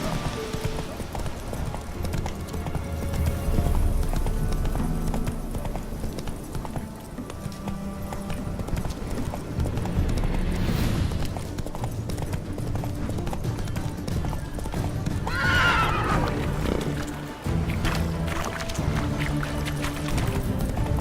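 A horse gallops in The Witcher 3 with continuous rhythmic hoofbeats over game ambience and a brief whinny midway, while a voice speaks at times.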